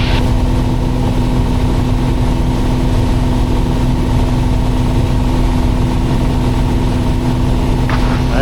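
Cabin noise inside a Piper Cherokee Six single-engine airplane with a 300-horsepower engine in flight, a loud, constant engine drone with a steady low hum and no pauses.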